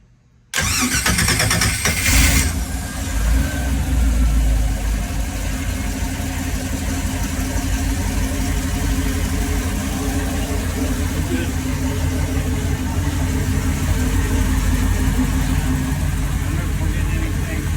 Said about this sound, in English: You start cranking. Okay. Is he ready? Yeah, go ahead and go. Trying to start her up.